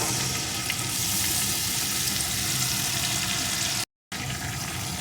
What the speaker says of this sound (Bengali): রসুন বাটাটাও পেঁয়াজের সাথে একটু ভেজে নেব